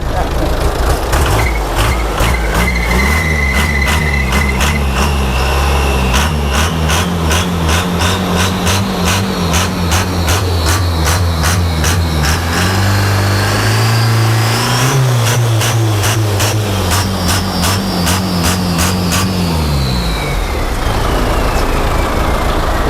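A modified diesel pickup engine with a big turbo and modified injection pump revs loudly and throatily, its pitch rising and falling under people talking nearby.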